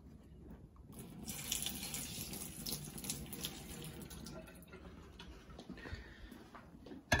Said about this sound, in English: Okay, dump out that paper water.